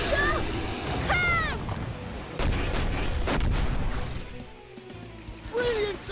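The Reflect Buster special shot from the Wii soccer game Inazuma Eleven Strikers lands as a string of heavy booming smashes and whooshing sweeps. Loud impacts surge, fade, then return, with game voices and crowd noise mixed in.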